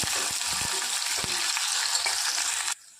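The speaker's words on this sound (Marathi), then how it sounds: "आता त्यामध्ये मी एक मोठा उभा चिरलेला कांदा टाकते. छान परतून घेऊया." A large lengthwise-sliced onion sizzles loudly in a pan with coarsely crushed garlic, a dense, steady frying hiss punctuated by small stirring knocks, until it cuts off abruptly near the end.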